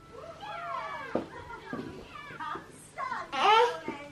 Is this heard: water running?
no